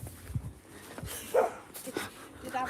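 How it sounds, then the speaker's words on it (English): Dogs bark and yip in short scattered bursts while digging into a hole at a pigeon racing site in Cornwall, with some whimpering and scuffing nearby. "Bloody dogs, they're nearly underneath the edge."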